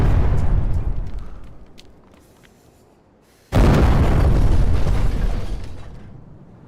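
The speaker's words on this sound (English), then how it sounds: "Not Agony exploding the gas station!" A gas station blows up in a video game as a loud, deep roaring blast that trails off into a rumble, then a second heavy explosion bursts in and rolls on for several seconds.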